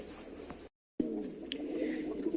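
Racing pigeons coo softly in a loft, low murmuring calls over steady background noise, broken by a brief silent gap.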